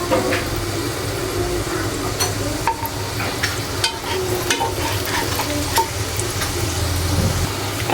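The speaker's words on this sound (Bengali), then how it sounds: "দেখো আমার মেয়ে ছোটোগুলো ভাজতেছে" Small donuts frying in oil in a mini toy kitchen, a continuous close sizzle and bubbling crackle with occasional stirring clicks and light utensil taps throughout.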